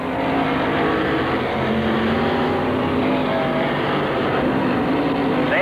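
Dirt modified race cars on the final lap at Penn Can Speedway, a steady loud roar of several engines droning together throughout, with a rising pitch near the end as cars come out of the turn.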